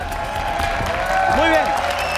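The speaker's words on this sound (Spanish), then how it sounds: "¡Un aplauso para ellos, por favor!" Audience applause on a televised Spanish-language talent competition, a continuous crowd clapping bed with a tonal musical sweep and some voice-like sounds riding over it.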